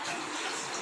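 Two cups of water poured into an open pot for a fruit trifle jelly, a steady close broadband splash and rush lasting under a second with no talk.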